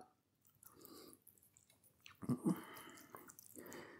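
Close, moist chewing of Linda McCartney's vegetarian meatballs with sauce, cheese and pasta: soft squishy mouth sounds, with a couple of louder wet bites near the middle and quieter mastication on either side.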